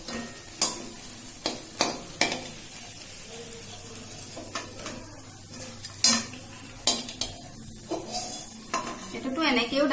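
Papad and potato curry stirred in a pan, with repeated sharp scraping and clinking of a spoon against the metal at irregular intervals over a faint sizzle, close and fairly loud.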